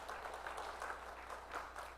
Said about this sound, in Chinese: 我们再次的来拍手欢迎他们